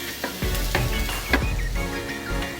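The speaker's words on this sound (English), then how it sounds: "1 tablespoon of oil in the pan. Next step is to add 2 big onions chopped into this." Two big chopped onions hit a tablespoon of hot oil in a pan for chicken cheese samosa filling, giving a steady close sizzle broken by a few stirring scrapes, with no voices.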